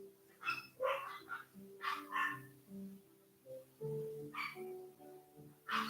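Two dogs barking at a distance in bursts of yips and barks, with low steady tonal hum and murmuring underneath, no clear speech over them.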